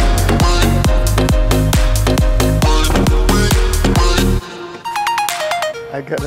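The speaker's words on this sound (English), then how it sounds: "notification on my phone" A phone plays a loud, repeating musical ringtone-style notification with a regular rhythmic pulse, then shifts to a thinner, higher melodic alert near the end.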